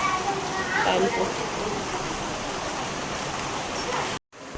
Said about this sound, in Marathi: पाऊस बघा किती जोराचा आलेला आहे